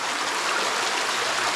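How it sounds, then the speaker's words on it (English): Water rushes steadily through a stream inside a cave, a dense, continuous broadband roar close by with no voices over it. "look at this water flowing. It's like raging rapids here."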